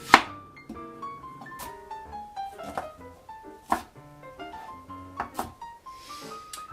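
A knife cutting through an onion on a cutting board, with a few sharp thunks spaced irregularly over a soft background tone.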